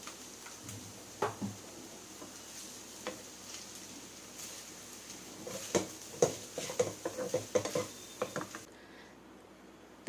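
Cooked rice for egg fried rice is stirred lightly in a pan over a medium flame with soy sauce added, giving soft scraping clicks and a faint sizzle. The strokes grow busier and more frequent toward the end.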